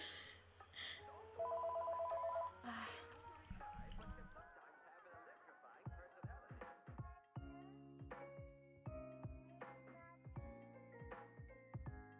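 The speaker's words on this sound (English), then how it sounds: "Can that be the last phone call of the day?" Telephone ringing at a watercolour painting session, a steady electronic ring burst around the middle of the first few seconds, followed by quieter tonal bleeps and musical notes later.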